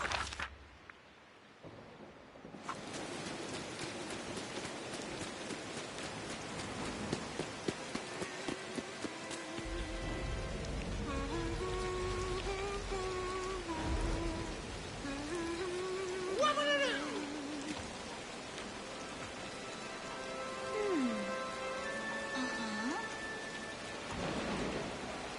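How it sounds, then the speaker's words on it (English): Steady rain falling with rumbles of thunder, a continuous wash of downpour that runs throughout, with deep low rolls building and fading under scattered tonal sounds. "There's something so peaceful about the rain."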